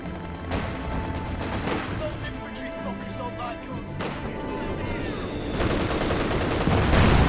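Gunfire in the WWII strategy game Company of Heroes 2, with dense bursts of machine gun and rifle shots plus distant booms rolling continuously under a commentator's voice, growing louder toward the end.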